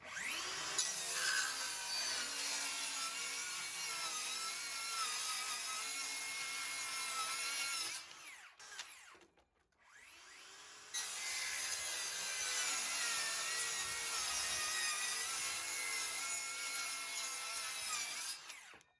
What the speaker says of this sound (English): Let's test that by ripping 2 sheets of 1/2-inch plywood using a 5 amp hour 20 volt on the left and a 6 amp